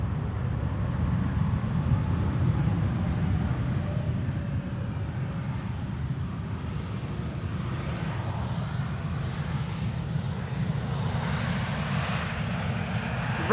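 A KLM wide-body airliner arriving on the glide slope at Amsterdam Schiphol gives a continuous, moderately loud low engine rumble and roar. A faint rising whine comes in as it draws nearer, with no one speaking.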